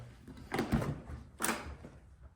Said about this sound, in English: I can open up the door all the way.